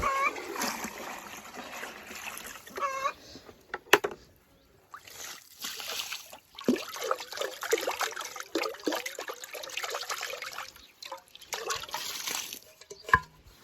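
Water pours and splashes steadily into a container for several seconds, with bright trickling and a few sharper knocks and spatters along the way.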